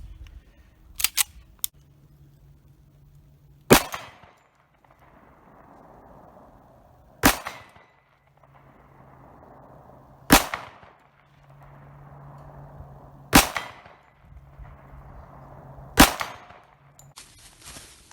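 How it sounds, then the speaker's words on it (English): Five sharp .45 ACP pistol shots firing 250 grain cast round nose flat point bullets at a steel target 25 yards away, spaced about three seconds apart, each a loud crack with a short ring-out, with faint clicks in between. "We'll shoot here at 25 yards."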